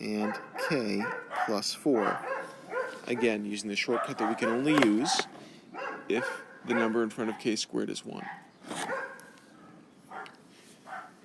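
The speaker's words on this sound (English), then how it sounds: "The dogs are going nuts right now in the neighborhood because we've got a mailman walking by" Neighborhood dogs bark and yip at a passing mailman, heard throughout as repeated sharp barks beneath a person talking steadily.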